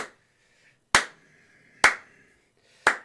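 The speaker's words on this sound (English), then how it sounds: "And you hear just this really loud clap" Three sharp, loud claps, evenly spaced about a second apart, each ringing out briefly against an otherwise quiet background.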